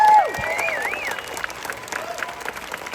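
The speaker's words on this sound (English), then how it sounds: "Give a huge round of applause there for Garden Amp." Audience applause at a celebration of life for Adam the Woo, steady clapping mixed with some crowd noise and a few voices over the three seconds, moderately loud and fairly close.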